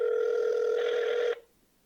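A telephone ringback tone sounds over the line on an outgoing call: one steady, buzzing ring that holds for over a second and then cuts off cleanly into near silence.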